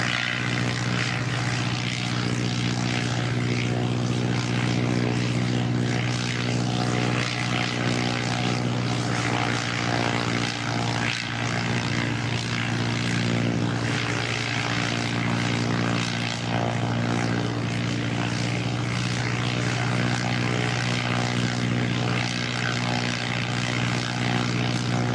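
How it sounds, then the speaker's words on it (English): A propeller airliner lands at Christchurch Airport, New Zealand, with a steady, loud engine drone and broad rushing noise that holds evenly throughout, no voices present. "that was a butter landing. It was pretty smooth."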